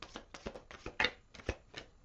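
A deck of tarot cards is shuffled by hand in a quiet room, giving a string of crisp, papery riffling bursts. There are about eight short clusters in roughly two seconds, with the loudest near the middle.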